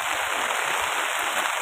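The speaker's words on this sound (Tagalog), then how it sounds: "Malakas ang ulan." Heavy rain makes a dense, steady hiss that stays loud and unbroken for under two seconds, with no talking.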